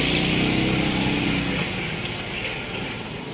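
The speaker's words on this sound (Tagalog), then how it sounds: "At may motor doon sa likod." A motorcycle engine idles nearby outdoors, a low rumbling putter that fades slightly partway through, steady and unaccompanied by talk.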